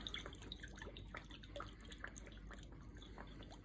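About a quarter cup of Worcestershire sauce trickles into a slow cooker of baked beans, a faint run of small drips and splashes, steady and close, with no talking.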